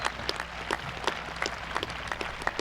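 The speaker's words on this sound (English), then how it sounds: "that should be getting the most round of applause" A high school commencement crowd claps in a loose, steady patter of individual hand claps, moderately distant and without voices over it.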